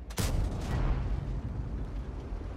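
Heavy tank cannon fire in the war game New Order of War, a sudden loud blast with a rumbling boom that trails off over the next couple of seconds.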